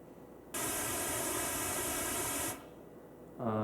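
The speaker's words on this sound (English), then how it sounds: "I'm going to demonstrate that better with some white noise." A burst of white noise played for a demonstration starts abruptly, holds steady and loud for about two seconds, then cuts off, leaving a quiet background before another tone begins.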